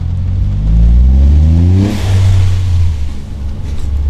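Toyota GR Yaris accelerating hard through a rainy tunnel, its intake roaring loud and close as the engine note sweeps upward, then eases and swells again with reverberant wash.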